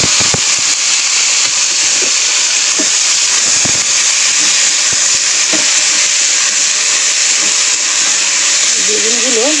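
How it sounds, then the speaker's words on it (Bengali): Eggplant slices, pre-rubbed with salt and turmeric, fry in oil with a steady loud hiss and sizzle, broken by a few soft clinks and scrapes, ending in a brief wavering tone. "বেগুনগুলো এবার ভেজে নেব।"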